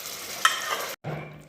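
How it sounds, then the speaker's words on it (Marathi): Sarson saag being stirred and mashed in a pan, a short wet scraping and squelching with a sizzling undertone, broken by a brief gap. "आता हे असं छान घोटायचं."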